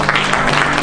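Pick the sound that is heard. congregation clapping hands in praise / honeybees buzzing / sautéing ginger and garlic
congregation clapping hands in praise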